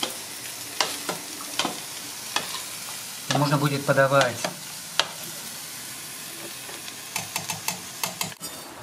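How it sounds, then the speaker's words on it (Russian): Creamy mushroom soup simmers in a pot with a soft bubbling hiss, broken by spoon clinks against the pot and a few brief spoken words. "Чуть-чуть покипит и готово."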